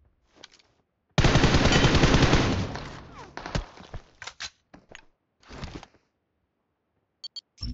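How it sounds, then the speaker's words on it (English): A loud, close automatic burst lasting about two seconds in PUBG Mobile tails off into scattered single shots and short bursts, then brief pauses broken by a few faint clicks. "Firing sounds detected."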